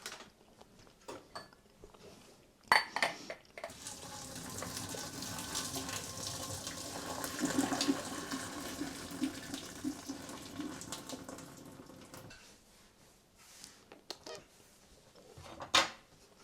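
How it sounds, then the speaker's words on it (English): Starchy pasta cooking water is poured in a kitchen, a soft continuous trickling splash lasting several seconds, framed by quiet clinks and handling sounds before and after. "Some pasta water for the starch."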